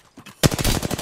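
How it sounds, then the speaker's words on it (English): Gunfire in the video game Apex Legends, a faint brief pop followed by a loud close burst of rapid automatic shots in a steady rattling rhythm. "Getting shot at."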